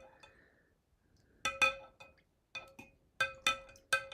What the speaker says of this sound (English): So we're going to stir that.